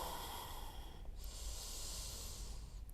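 Slow, deep breathing during a yoga practice, a soft close airy inhale and exhale with a hissing quality, heard alone and fairly quiet.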